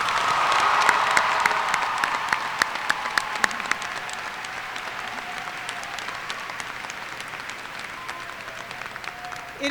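A graduation ceremony audience gives warm, steady applause for the faculty advisors at Worcester Technical High School, a dense crowd of clapping that is loudest at first and then gradually thins out.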